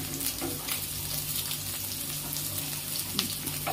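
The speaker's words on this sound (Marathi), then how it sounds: "आता दुसरीकडून सुद्धा आपल्याला अशाच गोल्डन ब्राऊन कलर येईस्तोपर्यंत मस्त शॅलो फ्राय करून घ्यायचे." A sweetcorn cutlet shallow-fries in oil in a pan after being flipped, producing a steady, close, moderately loud sizzle with faint crackles and no speech.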